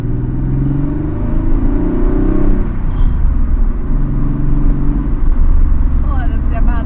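A Porsche 964 Carrera 2 with a manual gearbox and an air-cooled boxer engine, its deep rumble swelling as it accelerates, heard from inside the car with people talking over it.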